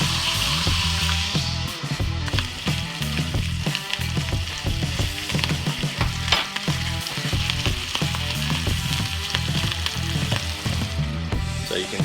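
Morel mushrooms seasoned with garlic salt and black pepper fry in a pan with a loud, steady crackling sizzle, broken by occasional stirring scrapes close at hand.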